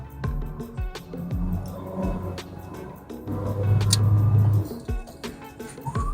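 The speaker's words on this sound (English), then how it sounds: "I am just going to rapidly accelerate the car and then brake to see how good the brakes are" A car's engine revs hard as it accelerates during a used-car inspection test drive, then the engine note drops sharply as it brakes hard to a stop. The rumble is fairly loud and steady, with no talking.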